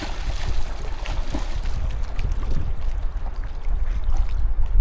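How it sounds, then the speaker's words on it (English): Strong wind buffets the microphone on the shore of Lake Tahoe, a loud, gusty low rumble that rises and falls unevenly with faint water sounds beneath it. "It's really windy."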